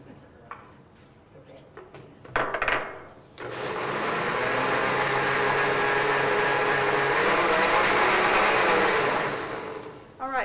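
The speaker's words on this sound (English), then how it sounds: "So now I'm just going to dump this into the blender and blend it a little bit to mix it really well." A few knocks and clatters come first, then a blender roars up and whirs steadily for several seconds as it mixes a plant-based sauce, finally winding down.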